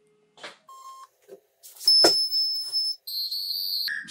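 Busy signal on a phone call to the tourism office: a string of electronic beeps and sustained high tones, fairly loud and with no voices.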